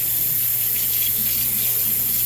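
Tap water runs steadily into a sink as a sieve is rinsed under it, a continuous close splashing hiss with no talking.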